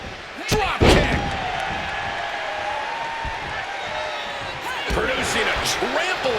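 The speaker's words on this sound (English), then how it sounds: "Dropping the knee hard." Heavy knee drop landing on the mat in the WWE 2K26 wrestling game, two loud slams early on over steady arena crowd noise.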